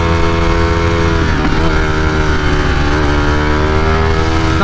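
A 2020 Ducati Streetfighter V4 with a flash-tuned ECU screams at high RPM, a loud continuous engine howl whose pitch climbs, dips briefly at each throttle transition and climbs again.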